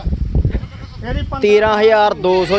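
Goats bleat loudly and close at a rural village goat market, drawn-out wavering cries in two or three bursts following a short stretch of crowd chatter and people talking.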